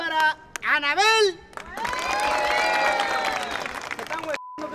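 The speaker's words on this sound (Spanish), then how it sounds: "¡Aplausos para Anabel!" A crowd at a Halloween costume contest breaks into clapping and cheering for a contestant named Anabel, a steady wash of applause after a short burst of excited voices, fading near the end.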